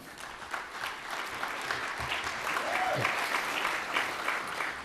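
Audience applause at a talk, a sustained wash of many hands clapping at moderate distance for several seconds, with a faint murmur of voices beneath it.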